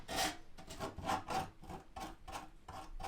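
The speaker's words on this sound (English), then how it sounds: "I'm filing down all these burrs from the metal" Hand file rasping burrs off freshly cut sheet metal on a Ram ProMaster van roof, a steady series of rhythmic back-and-forth strokes, close and fairly quiet, with no talk.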